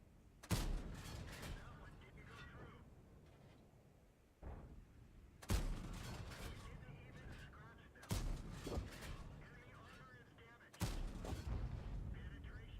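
Tank cannon shots in World of Tanks ring out as four heavy booms spaced a few seconds apart, each trailing into a long rumbling decay.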